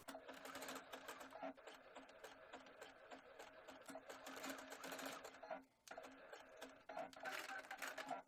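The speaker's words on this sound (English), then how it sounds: "take it over to the sewing machine, and we're going to zigzag down the raw edges" A sewing machine zigzag-stitches down fabric raw edges in a fast, rattling mechanical rhythm, close by, with a short pause before it resumes.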